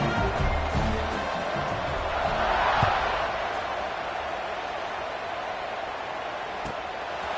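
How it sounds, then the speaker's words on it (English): A crowd buzzes in a college football stadium in the NCAA football video game, a dense, steady roar of many voices swelling slightly mid-clip with faint thumps underneath. "this crowd is buzzing after that last score"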